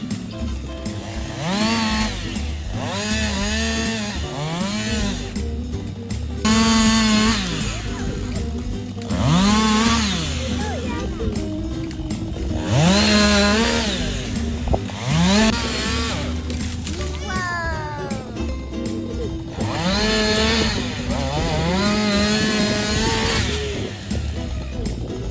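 A real chainsaw cuts down a tree in a backyard setting. The engine revs up and down in repeated surges, rising and falling in pitch with a steady idle between bursts, loud and close.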